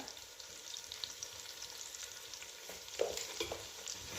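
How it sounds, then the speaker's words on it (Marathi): Sliced onion sautéing in a pan with a pinch of salt gives a steady, soft sizzle with occasional stirring scrapes, including a brighter clatter about three seconds in; no one speaks. "कांदा आता आपण हा छान परतून घ्यायचा आहे"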